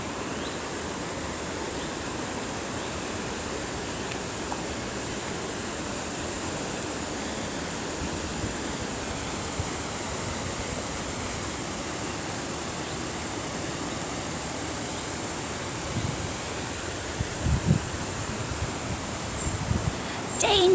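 The River Tyne flows steadily past, a broad continuous rush of water mixed with wind buffeting the microphone, with faint rustling and a few small knocks near the end.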